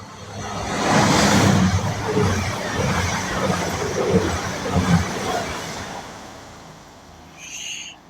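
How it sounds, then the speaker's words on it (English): An East Midlands Railway train heading to Sheffield passes straight through a station in the early morning, a broad rushing rumble that swells, holds and fades, with a faint tonal whine near the end. "East Midlands Railway train it was, going to Sheffield."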